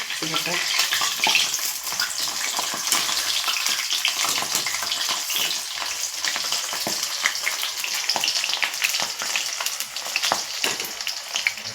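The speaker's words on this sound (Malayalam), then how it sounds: "ഇനി നമുക്ക് എണ്ണ ചൂടായിട്ടുണ്ട് നമുക്ക് ഇട്ട് നോക്കാം" Onion vada batter fritters drop into hot oil and fry with a loud, continuous, crackling sizzle close by, broken by small bubbling pops and barely any talk.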